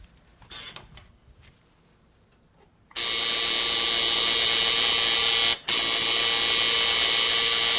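Tattoo machine buzzing during a tattoo lesson: faint handling noises, then a loud, steady electric buzz starts abruptly and runs continuously, with one brief dropout.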